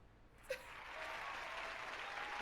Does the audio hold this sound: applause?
yes